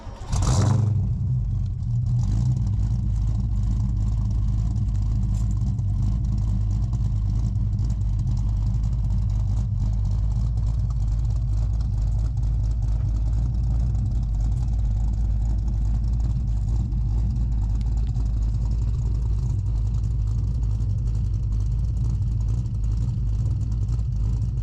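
A repaired car's engine runs on a test drive, a loud, steady low rumble throughout after a brief thump at the start.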